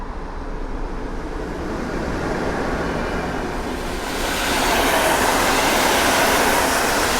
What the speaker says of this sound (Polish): Jedzie Intercity Lubuszanin. Na czele składu lokomotywa EP09, na którą mówimy Epoka.